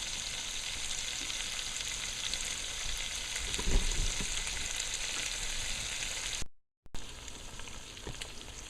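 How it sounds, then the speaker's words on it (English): A masala mix sizzles and crackles steadily in a hot pan, with a brief scrape of stirring midway. No voices. "So now it's frying down nicely, coming to a dry."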